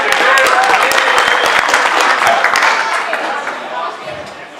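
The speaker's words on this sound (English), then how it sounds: "Round of applause for Jaden, everyone." Wedding guests applaud for Jaden at a reception in a fairy-tale castle setting, a loud, close round of clapping from many hands with a few sharper individual claps, easing slightly at the end.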